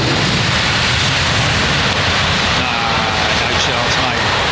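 An airliner landing on runway 27R at Heathrow with thrust reversers, a loud close roar of reverse thrust filling the whole short stretch, with a voice shouting over it.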